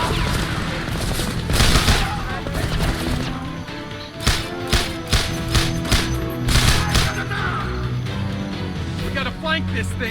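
Heavy gunfire rattles through a battle in the video game Homefront, dense volleys and loud bursts repeating across the whole stretch, with shouted voices mixed in among the shots.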